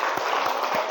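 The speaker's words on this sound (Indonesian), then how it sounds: "Tepuk tangan untuk kelompok 4 ya" A student group in a classroom gets steady applause, dense continuous clapping from a room of people filling the whole short moment.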